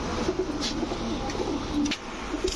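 A male silver muslodom pigeon in a loft coos in low, rolling bursts, close by, over a background of other birds and a faint steady hum.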